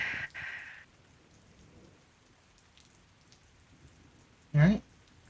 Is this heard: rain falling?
yes